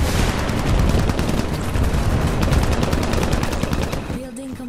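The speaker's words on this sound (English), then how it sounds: "I said they are shooting at us!" Rapid machine-gun fire in the PC strategy game Global Conflagration during a base attack, dense loud bursts rattling continuously, cutting off near the end where a voice begins.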